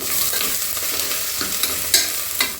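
Curry leaves and onions frying in a pan for a Kerala chicken biryani are stirred steadily, with a continuous close sizzle broken by scraping strokes and a few sharper clinks.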